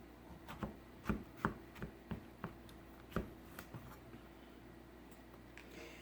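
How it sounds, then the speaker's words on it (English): Kitchen knife slicing zucchini into half rounds on a cutting board, a series of soft close chops at an uneven pace that fade toward the end, quiet and with no talk. "I'm just going to slice it down the middle so that you can make half rounds"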